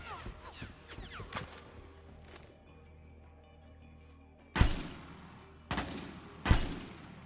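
Video game gunfire: a few quick shots at the start, a quiet stretch, then three loud, sharp bangs spaced about a second apart near the end, with faint talk.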